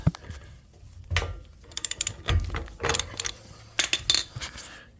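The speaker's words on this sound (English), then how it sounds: "So now I'm going to back it off to where it does move, and I can loosen this nut with my hand." A boat trailer wheel hub nut is loosened by hand, giving scattered close metallic clicks, rattles and taps in uneven bursts against a quiet background.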